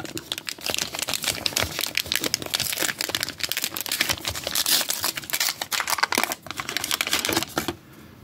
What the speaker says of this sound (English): Then here's the packet I just opened.